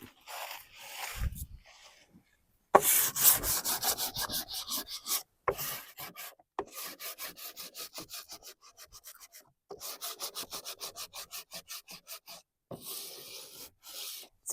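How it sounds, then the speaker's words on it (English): A worn wooden rocking chair is sanded down by hand in bursts of rhythmic back-and-forth rubbing strokes, close and fairly quiet, separated by short pauses. "I'm going to sand it down just a little more"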